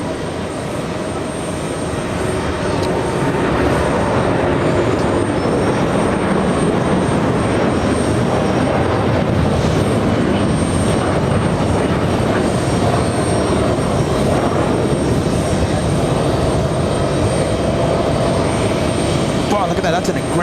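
A Virgin Atlantic Airbus A330neo taking off from JFK bound for Heathrow gives a loud, sustained jet roar that builds in the first seconds and then holds steady, with a voice talking over it.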